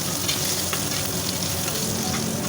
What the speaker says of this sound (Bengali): কেটে কড়াইয়ে তেল দিয়ে ওর মধ্যে গরম হলে আমি আলু আর বেগুনটা আগে লাল করে ভেজে তুলে নিচ্ছি